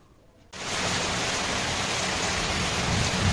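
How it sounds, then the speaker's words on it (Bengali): Heavy rain pours down steadily, a dense, loud hiss of drops drumming on surfaces that bursts in abruptly after a brief quiet moment and then holds constant with no voices over it. "তুমি এই বৃষ্টির মধ্যে কত বৃষ্টি হচ্ছে দেখছো"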